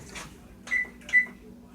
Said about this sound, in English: My first step is to preheat the oven to 350 degrees.